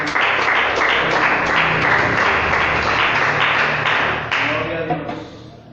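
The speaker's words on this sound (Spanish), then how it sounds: "Aplauda el nombre de Jesús." A church congregation applauds steadily during a sermon, dense clapping filling the space for several seconds before tapering slightly at the end.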